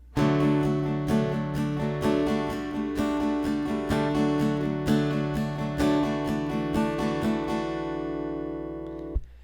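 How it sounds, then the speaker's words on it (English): An acoustic guitar is strummed in a quick, even rhythm of sixteenth-note chord strokes with ringing tones, played alone for several seconds before stopping. "For verse 2, we'll be strumming 16th notes"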